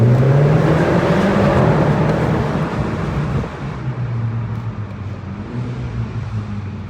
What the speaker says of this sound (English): one last clip I wanted to do with the little brap it makes when you shift in these cars